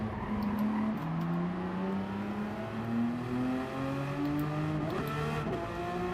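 Race car engine in Gran Turismo, a steady droning tone that climbs gradually with brief dips at gear changes, continuous and up close.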